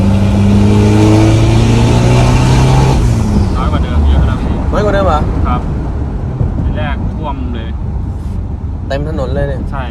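A remapped vehicle with a smoking, jerky, hesitant engine fault revs hard in third gear, its engine note climbing loudly up close, then easing under wind noise, with people talking over it.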